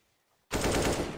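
A sudden burst of rapid automatic gunfire in a Counter-Strike match, loud and close, firing continuously after a brief near-silent moment, with no voices.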